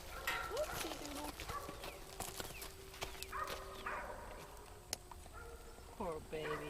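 A horse moves around at a farm, its hooves clip-clopping in scattered steps with occasional snorts and animal sounds, while a person talks softly nearby.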